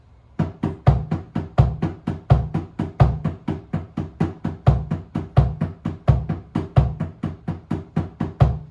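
A drum fill played alone: steady rapid triplet groups of two hand strokes and a kick, looping evenly with a few single strokes between, close and punchy.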